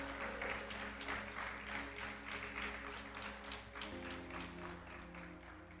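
A church congregation claps in sustained, rhythmic applause over steady held keyboard chords, the crowd sound full and continuous from start to finish.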